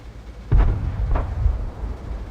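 A tank cannon firing a HEAT round in World of Tanks, playing the AMX M4 mle. 45, making one heavy, booming blast with a deep rumbling tail and a second duller thud soon after.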